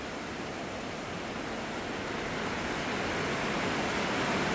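A waterfall in Canada gives a continuous broadband rush of falling water, steady and fairly close, that swells slightly toward the end with no voices over it.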